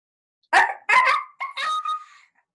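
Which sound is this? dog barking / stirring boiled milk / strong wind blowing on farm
dog barking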